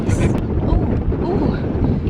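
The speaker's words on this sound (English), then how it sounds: "a tiny bit windy, but it's okay because the wind feels nice" Steady wind buffeting an outdoor microphone on a dusty California day, a continuous low rumble that fills the whole stretch without pause.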